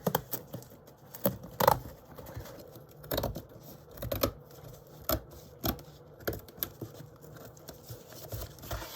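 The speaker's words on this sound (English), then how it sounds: "I've got several scissors on the go because these big ones don't like cutting too near the edge" Craft scissors trimming material close to the edge while making storage items, a series of scattered snips and soft clicks spread irregularly over several seconds, close and fairly quiet.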